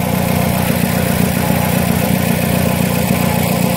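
A Mazdaspeed 6 with a Cork Sport turbo idles smoothly and steadily up close, a low, even engine hum with no misses.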